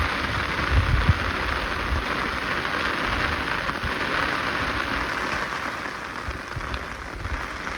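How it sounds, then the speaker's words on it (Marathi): Heavy rain pours steadily in the open countryside on the way to a sheep flock, a dense, even hiss with low rumbling undertones throughout, loud and unbroken. "मित्रांनो आता मात्र खरा पाऊस आला बरं का"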